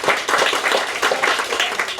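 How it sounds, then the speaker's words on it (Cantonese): Applause from an audience at a business networking chapter meeting, a dense run of hand claps filling a couple of seconds at moderate loudness with no voice over it. "喂，掌聲勁啲！"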